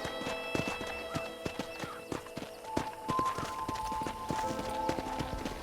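Horse hooves clip-clop in a steady, even rhythm on a hard surface, a series of crisp hollow knocks with faint background noise.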